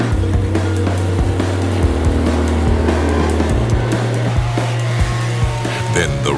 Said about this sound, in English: Then the rumblings of cars resonated throughout the circuit as the local drift racers arrived.